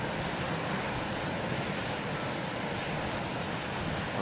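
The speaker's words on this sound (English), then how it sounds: "Now I see some big waves" Big ocean waves, some around forty feet, crash continuously in a steady roar of surf, loud and unbroken, with no voices over the noise.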